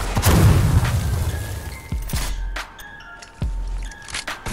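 Grenade explosions in the Fortnite game mode High Explosives, a series of deep booms and sharp bursts going off in quick succession, loud and close, with no talk over them.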